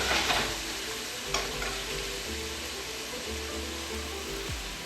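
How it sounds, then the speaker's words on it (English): Cabbage, bok choy and saltfish are stirred in a pan over low heat for a Caribbean dish, giving a steady, low sizzle with soft scraping of the stirring throughout. "I stir it up so it doesn't stick."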